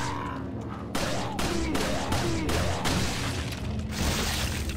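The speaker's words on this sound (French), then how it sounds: "Je tire tout à côté." About half a dozen loud gunshots ring out in Resident Evil 4, sharp irregular blasts spaced over a few seconds, each with a short, hard decay over a busy game background.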